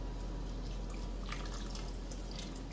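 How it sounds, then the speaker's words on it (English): Water is poured into a pot of beef vegetable soup with tomato paste on the stove, a continuous close splashing rush running steadily without talk. "Now I'm going to start adding my water."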